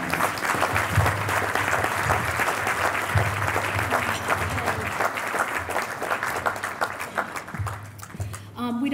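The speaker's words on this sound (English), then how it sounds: "Please join me in giving applause for all of those sponsors." Applause for sponsors at an alumni dinner and awards event, a room of hands clapping steadily for several seconds, with voices and murmurs under it before it fades out near the end.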